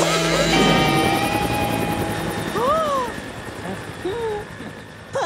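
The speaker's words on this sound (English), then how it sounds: "Father's company chopper!" Cartoon company helicopter flying past, a loud steady rotor drone with blade chop beneath music and whistling sound effects, close and continuous for the whole stretch.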